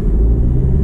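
A car speeding along a road close by, a loud steady low rumble that fills the short moment without any talk.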